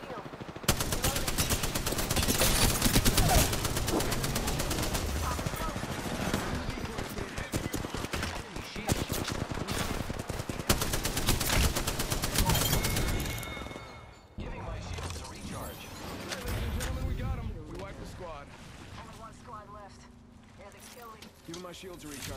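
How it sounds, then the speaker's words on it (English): Apex Legends gunfire, with rapid automatic bursts and repeated shots firing almost continuously, loud and dense, easing into scattered fire and game effects toward the end. "The enemies are shooting at me."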